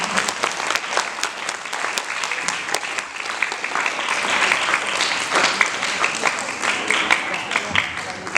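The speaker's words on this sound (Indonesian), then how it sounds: "Saya beri aplaus kepada Ustaz" Sustained applause from an audience at an Islamic lecture event honouring an ustaz, dense steady clapping throughout with a busy crowd texture and no clear speech on top.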